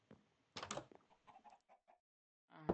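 Minecraft chickens clucking in short, quiet bursts: a cluster of clucks early on, a few softer notes after, a pause, then one more cluck at the end.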